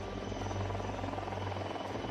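An attack helicopter rumbles steadily near the Jaisalmer border, a continuous low, even rotor drone that stays at constant loudness without pause, moderately distant with no voices over it.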